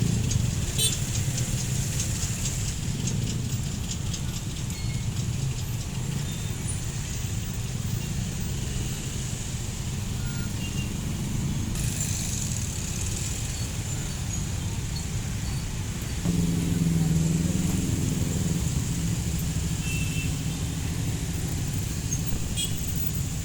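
An Adi Putro Sultan Class JB5 bus on a Hino RM 280 chassis idles with a low, steady engine rumble at a roadside agent stop. The engine note rises briefly near the end, and no voices are heard.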